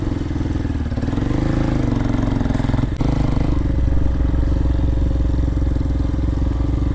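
A 2023 Hawk-X 250 motorcycle engine idles slightly high, a steady close, loud low-pitched putter holding an even rhythm throughout with one brief dip partway through.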